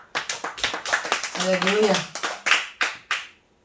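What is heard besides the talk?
congregation clapping in church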